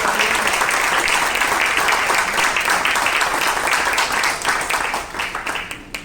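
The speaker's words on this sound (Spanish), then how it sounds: "Denle un fuerte aplauso al Señor." A church congregation claps loudly for the Lord, a dense, continuous burst of applause that stays strong for several seconds before thinning into scattered claps at the end.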